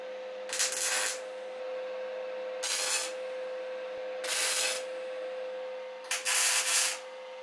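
Welding on a Honda Dominator motorcycle exhaust pipe, heard as four separate bursts of harsh sizzling hiss, each lasting under a second, over a constant electrical hum in a quiet workshop.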